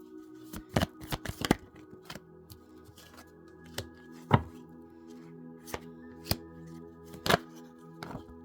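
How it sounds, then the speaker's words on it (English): Tarot cards being shuffled up close: quick bursts of crisp riffling and flicking snaps separated by short pauses, over a faint steady hum. "I will also be shuffling your tarot cards"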